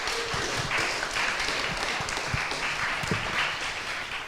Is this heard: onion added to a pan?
no